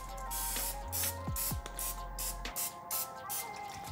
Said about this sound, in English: you can actually spray them with a little bit of olive oil.